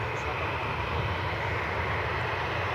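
An airliner's jet engines roar steadily at Cleveland Hopkins airport, a continuous loud rumble with no breaks.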